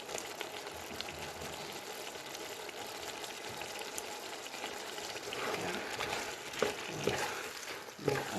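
Beef is stirred into a simmering pot of eru stew made with tripe and beef skin, a soft steady sizzle and bubbling under wet scraping and sloshing stirs that grow louder and choppier toward the end.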